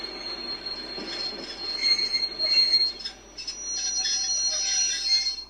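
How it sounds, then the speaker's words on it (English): Train wheels squeal in high, piercing tones that rise and fall as the train brakes, over a low rumble of moving carriages. "After 3 days, the train stops."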